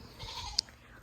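Nigerian Dwarf goat on a farm giving one short, sharp bleat over quiet outdoor background rumble, heard nearby and alone.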